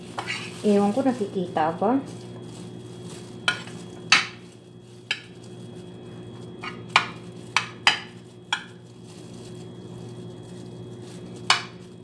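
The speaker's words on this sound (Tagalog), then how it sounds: "paghaluin muna natin sila ng macaroni" Macaroni being stirred into a béchamel in a pan, with a short burst of voice near the start and then a string of separate scraping and clinking strokes of utensil on cookware.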